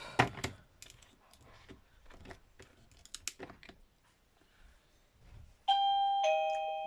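Near the end, children ring a doorbell indoors twice in quick succession, each loud chime ringing out clearly after a stretch of quiet tapping and clicking.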